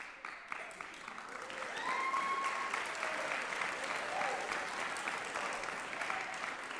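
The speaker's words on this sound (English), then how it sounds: "huge round of applause for sophomore Claudia Payer of the equestrian team" A student awards-night audience applauds a sophomore from the equestrian team, clapping that swells after the first second and holds steady, with a few faint whoops and cheers mixed into the crowd.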